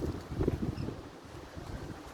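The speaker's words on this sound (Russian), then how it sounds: "Ух, какое ветрище! Ураганный ветер." Hurricane-force wind on a December morning roars in steady low gusts, buffeting the microphone with a rumbling, rushing noise and no voices.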